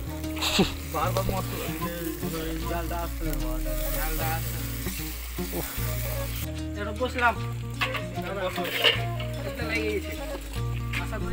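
Duck meat sizzles and fries in a pan at a village picnic, stirred now and then with occasional clinks, steady and close, with voices and music in the background.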